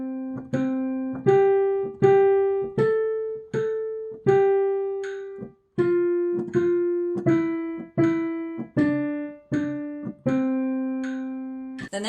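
Piano playing Twinkle Twinkle Little Star as a simple single-note melody, each key struck clearly and left to ring, steady moderate tempo with short gaps between phrases, close and alone without any voice.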